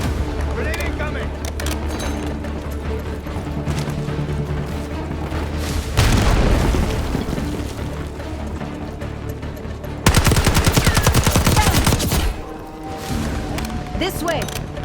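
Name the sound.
grenade explosion and gunfire in video game Call of Duty: Black Ops 6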